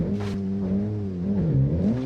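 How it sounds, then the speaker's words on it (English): A BMW X5 driven in a BeamNG.drive 4x4 suspension test gives a steady, close engine hum whose pitch drifts slightly up and down, with a faint rush of tire and road noise underneath. "4x4 suspension test, BMW X5."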